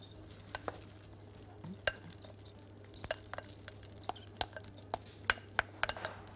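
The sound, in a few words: sautéing liver and kidneys in a pan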